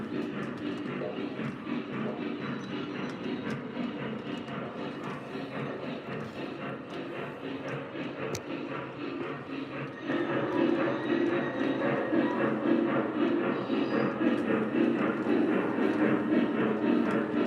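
A long freight train rumbles past steadily with rhythmic clacking of wheels, heard from a Vision Line class A motorhome, growing louder partway through and continuing without a break.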